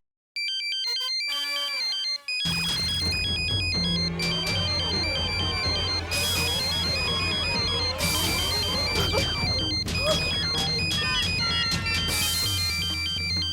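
A mobile phone ringtone for an outgoing call, playing loudly and continuously as a busy, layered melody with repeating chime-like notes over a low musical backing, with no speech over it.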